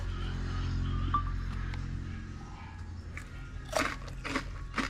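Crispy fried pork being bitten and chewed, with crunchy bursts clustered near the end, close and fairly loud over a steady low background hum.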